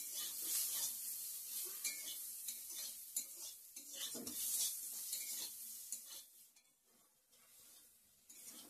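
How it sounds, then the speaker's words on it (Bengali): Bitter gourd fries in a pan with a steady sizzle while a utensil stirs and scrapes against the metal in irregular strokes, gradually settling quieter toward the end. "আর এখন এদিকে করলা ভাজা করছি"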